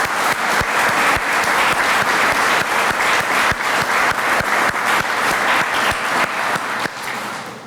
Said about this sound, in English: I'd love to give a huge round of applause for that first